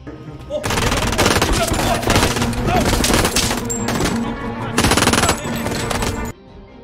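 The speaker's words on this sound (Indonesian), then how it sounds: "Roman menembak si Cuko lebih dulu karena dia mengetahui Roman bekerja sama dengan DEA" Rapid bursts of automatic gunfire from a crime film scene set around a Miami drug deal, loud and sustained with dense repeated shots in several volleys, ending abruptly near the close.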